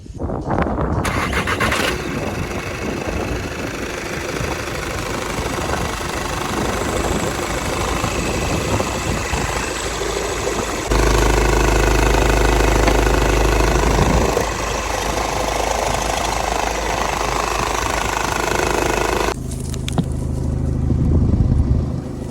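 A 2010 Volkswagen Touran 2.0 TDI diesel engine runs continuously up close with a rough, knocking idle, its pitch and loudness shifting a few times as revs change.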